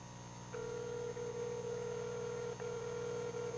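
A telephone call placed over a studio line: a steady tone sounds from about half a second in and runs to the end, with a short break near the middle. No one speaks.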